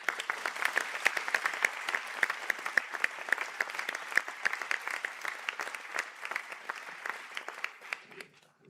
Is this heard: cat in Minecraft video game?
no